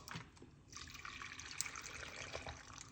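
Water poured into a container, about a cup, for a blended carrot and lemon drink: a soft continuous trickle and splash, close and fairly quiet, with brief drips and clinks.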